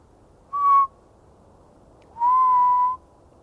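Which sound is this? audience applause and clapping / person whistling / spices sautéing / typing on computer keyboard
person whistling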